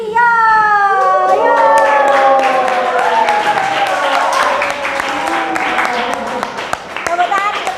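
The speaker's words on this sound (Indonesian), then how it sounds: "Tepuk tangan untuk Satrio" A classroom of young children in Indonesia clap for a classmate, with the teacher's sustained speaking voice running over the top and scattered hand claps picking up toward the end.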